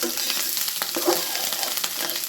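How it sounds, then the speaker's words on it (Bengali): Ingredients for bhorta frying hard in a pan until charred, a close, steady sizzle with stirring scrapes running through. "একটু পোড়া পোড়া ভাজা ভাজা করবো, বিকজ যত কড়া ভাজা হবে তত একটু টেস্টি হবে বেশি"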